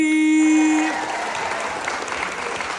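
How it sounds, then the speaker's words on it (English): Audience applause at a televised Welsh talent search audition callback, a loud burst of clapping that drops after the first second to a steady, dense patter, with a sustained musical tone ringing underneath at the start. "a round of applause"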